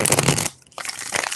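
Tarot cards are shuffled in quick riffling bursts, loud and close, with a brief pause before a second run of crisp flicking.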